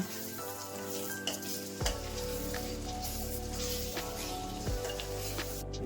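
A brinjal curry sizzles in the pan as it is stirred after roasted sesame and peanut powder go in. The frying hiss is steady and soft, with occasional scrapes of the spoon, and there is no talk.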